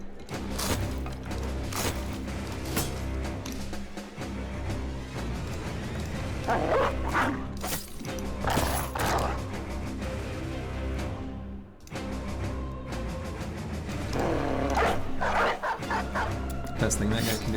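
Dog barking in a medieval battle strategy game with peasant militia, repeated yips and barks mixed into a loud, dense battlefield din with someone talking over it.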